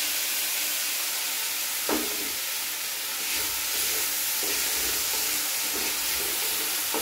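Tomato paste sizzles in hot oil with ginger, a steady close hiss that keeps going throughout, broken by a few soft clicks and stirring scrapes.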